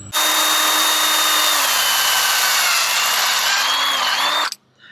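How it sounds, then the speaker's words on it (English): A power drill drilling out a part on a Nissan Frontier front center drag link whines loudly and steadily for about four and a half seconds, its pitch dipping slightly under load, then stops abruptly. "I was going to drill that out, and we got that out"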